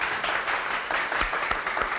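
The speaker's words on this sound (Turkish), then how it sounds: "bir alkış alalım" Studio audience applause on a Turkish television show, a dense steady burst of many hands clapping with a few sharper individual claps standing out, no talk over it.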